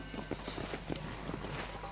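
Horse hooves clip-clopping in the video game Red Dead Redemption, a quick uneven series of hoof strikes heard close over a constant background rumble.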